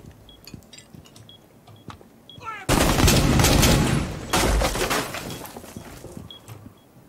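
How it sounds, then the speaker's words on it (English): Gunfire in the tactical shooter video game Rainbow Six Siege bursts in as a loud, dense volley lasting a couple of seconds, then a second burst follows, with quieter game ambience before and after. "No idea where that shot came from."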